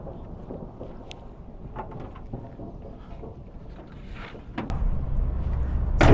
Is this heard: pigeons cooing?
no